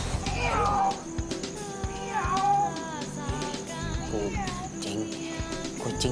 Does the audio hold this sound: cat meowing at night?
yes